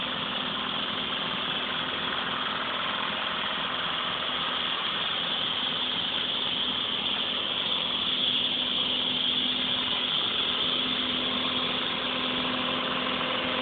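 Detroit 2-71 two-stroke diesel engine running steadily on a trailer, powering an air compressor for blowing out a sprinkler system; a continuous, even drone throughout with no talking.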